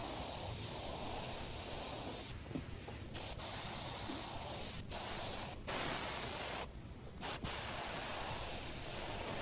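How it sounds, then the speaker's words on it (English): An Iwata HPC airbrush sprays automotive paint on a custom helmet, giving a steady close hiss broken by several short pauses as the trigger is released, with no voices. "The airbrush I'm using to do this is an Iwata HPC."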